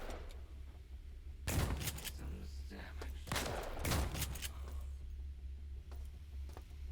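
Shotgun blasts in the sci-fi shooter System Shock Remake, two or three loud broadband bangs with mechanical clatter between them, set over a steady low game hum.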